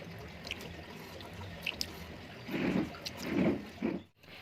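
Water splashes against the face while washing after shaving the upper lip, heard as a few soft, close splashes over a low running-water background.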